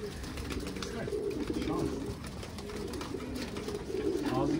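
Pigeons cooing softly in a loft setting, low murmuring calls repeating over steady background noise, with faint voices and occasional wing sounds mixed in.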